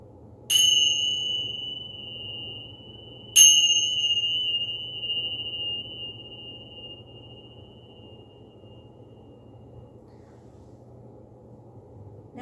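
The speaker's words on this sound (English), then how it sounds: "absorb the vibrations of the bells" Two bell strikes during a yoga class, each a clear ringing tone that sustains and slowly fades over several seconds, the second sounding about three seconds after the first, over a low steady background hum.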